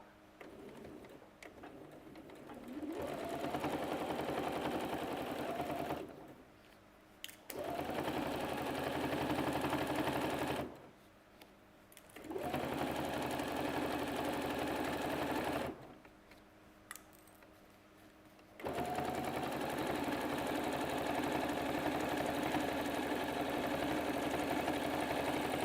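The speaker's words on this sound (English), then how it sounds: "So again, doing top stitch over here." A sewing machine top stitches pieces for an appliqué bag in four long, steady runs of even mechanical whirring. Short quiet pauses separate the runs.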